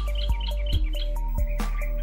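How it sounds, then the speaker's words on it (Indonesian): A sooty-headed bulbul sings a series of short, clear chirps and tweets in quick repeated bursts, close and moderately loud against a steady low hum. "Agar burung terucukan tetap gacor walaupun dipantau oleh pemiliknya kapanpun."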